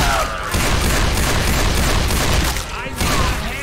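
Rapid, loud gunfire from Left 4 Dead 2 rattles almost continuously, with sustained bursts briefly dropping away before resuming, close and dense, amid game voices calling out.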